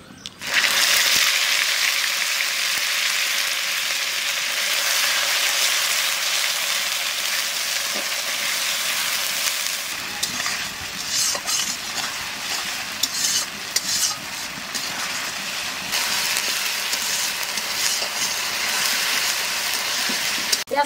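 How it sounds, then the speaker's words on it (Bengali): Onion paste hits hot oil seasoned with cumin, bay leaf, cloves, cinnamon and cardamom, bursting into a loud, continuous sizzle that holds throughout, with faint stirring scrapes joining in the second half. "এবার দিয়ে দেবো পেঁয়াজ বাটা।"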